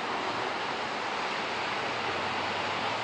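Continuous broadband rushing of surf, steady and fairly loud with no distinct breaks between waves.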